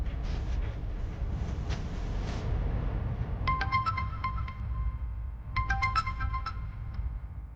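A phone rings in two short bursts of repeated electronic tones over steady background rumble, as a call is placed at home.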